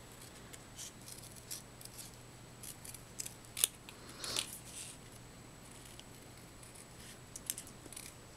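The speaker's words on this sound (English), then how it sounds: "cut around that." Scissors cut through card paper for a handmade Mother's Day card, with quiet close snips and crisp clicks scattered over a faint background hum.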